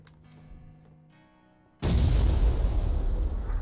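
A grenade explosion in PUBG, a sudden loud blast that cuts into a quiet stretch of faint ambient sound and leaves a sustained rumbling roar behind it.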